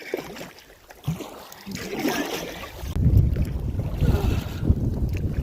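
Wind and lapping waves on Smoothwater Lake while paddling a canoe, steady gusting rush with buffeting microphone wind noise and choppy water sounds growing louder partway through, no talking.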